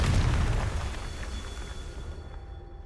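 Confringo blasting spell in the Hogwarts Legacy video game, a loud booming explosion that hits at once and then rumbles and fades over a few seconds.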